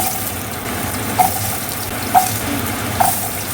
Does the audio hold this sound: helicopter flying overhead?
no